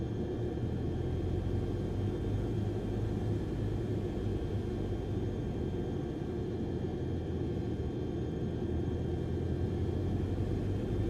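Cessna C152 engine in Microsoft Flight Simulator, a steady, loud droning rumble with an even hum that holds constant throughout.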